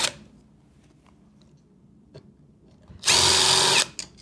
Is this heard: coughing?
no